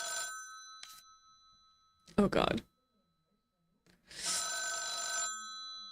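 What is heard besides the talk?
telephone ringing in a video game visual novel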